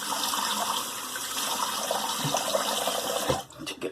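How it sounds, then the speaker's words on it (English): Running water from a tap splashes steadily while someone rinses after a shave with a Feather razor, a close, constant flow ending in a brief clatter. "Rinse that off"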